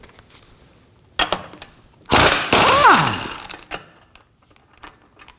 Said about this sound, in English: We'll remove our axle nut with a 36mm.